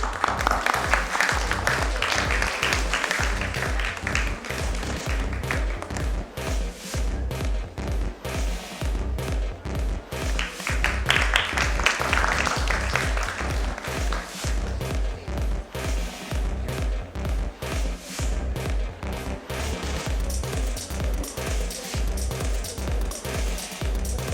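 A large audience at the National Nursing Conclave in Mumbai gives a sustained round of applause, with dense, loud clapping that goes on unbroken and swells twice.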